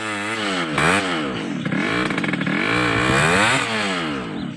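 A stock Yamaha RX Special two-stroke motorcycle revs hard while climbing a steep dirt trail, its loud, close engine note rising and falling in pitch through repeated throttle surges.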